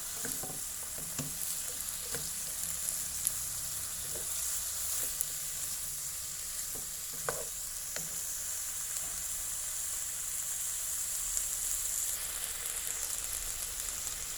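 Carrots and snow peas stir-frying with pork in a hot pan give off a steady, even sizzle, broken by a few sharp clicks and scrapes of stirring. There is no talking.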